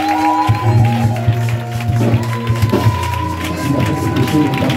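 Congregation in a French-speaking church service bursts into acclamation, a loud roomful of cheering, shouting and clapping that rises and surges in waves, with voices calling out over the crowd.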